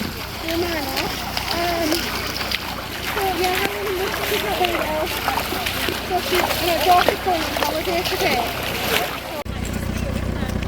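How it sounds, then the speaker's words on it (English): Continuous splashing and sloshing of water as someone wades through a river, with voices talking over the watery churn. "Just about to wade across the river."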